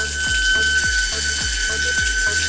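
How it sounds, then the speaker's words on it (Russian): A humming, leaking mixer faucet gives off a steady loud drone with a rapid pulsing rattle, about four beats per second, over rushing water, with no talking. "Если у вас течет кран, а может он еще вот так вот гудеть,"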